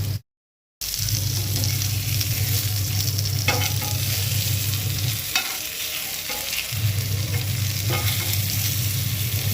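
Goan-style shetka fish fries in a hot pan, giving a steady, loud sizzle with intermittent stirring and scraping after a brief silent gap at the start.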